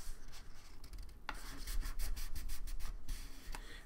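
A fingernail rubs firmly along a folded paper flap in a paper sculpture, making faint, close dry scraping strokes in quick repeated bursts with no voices.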